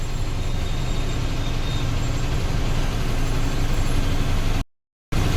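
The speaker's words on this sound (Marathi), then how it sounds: "एवढा ट्रॅफिक आहे बघा" Heavy road traffic with trucks on a delivery route from Bhiwandi toward Goa port gives a continuous loud engine and road rumble, broken by a brief dropout near the end.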